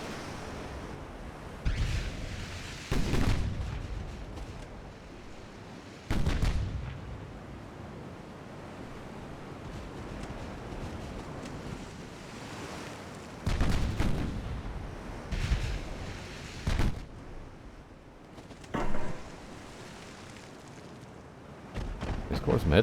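Main guns of a French light cruiser firing in the 1893 campaign of the naval strategy game Ultimate Admiral: Dreadnoughts. Several loud, heavy booms come at irregular intervals over a steady rumble of wind and sea.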